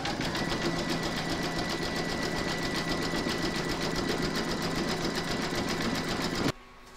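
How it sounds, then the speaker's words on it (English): An embroidery machine stitches a zigzag along the raw edges of a square scalloped placemat held in a hoop, a steady close mechanical whirring with rapid needle pulses running continuously before stopping abruptly near the end. "pop your hoop back into your machine and stitch round number six, and that's going to zigzag along these two raw edges"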